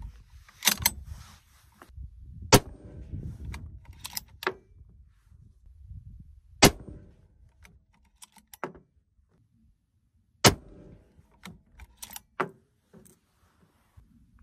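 Rifle shots ring out at an outdoor range during scope zeroing, a handful of sharp, isolated cracks spaced several seconds apart. Quieter handling clicks and rustling fill the gaps between them.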